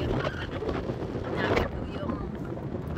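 Strong wind buffets an outdoor microphone with a rough, continuous roar rising and falling over a few seconds, while a person talks over it.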